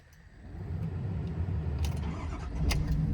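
A 2018 Ford F-750 extended-cab crane truck's diesel engine cranks and catches, then settles into a close, deep, rumbling idle that swells louder with a few sharp clicks and knocks.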